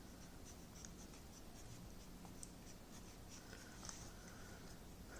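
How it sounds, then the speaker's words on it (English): A diagram drawn by hand during an electromagnetism review session: faint, scratchy pen strokes come in short bursts over a steady background hiss, with no speech. "I'm going to draw it over here. Draw the same diagram that we have here."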